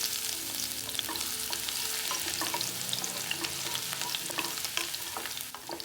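Sliced garlic sizzles and crackles in hot oil in a pan while being stirred for a Kerala potato fry, a steady close frying hiss with small pops and no voices.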